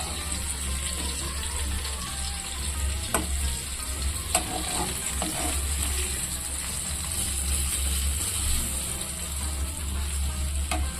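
Butter garlic chicken fries over medium heat, giving a continuous close sizzle with a few light clicks and pops scattered through it.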